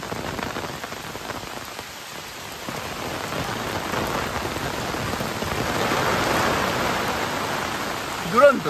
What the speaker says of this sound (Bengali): আর সামনে বৃষ্টিটা দেখাচ্ছে।